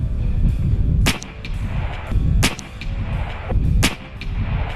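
A .50 caliber big bore PCP air rifle fires outdoors: three sharp, loud cracks spaced about 1.4 seconds apart, each a bright snap over a steady low rumble of wind or background noise.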